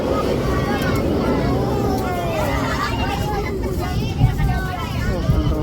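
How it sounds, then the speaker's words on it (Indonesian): Rumbling interior of a fast-moving passenger train in Indonesia near Purwokerto, with steady low mechanical noise, while people chat and children's voices rise over it. "Kenceng banget keretanya."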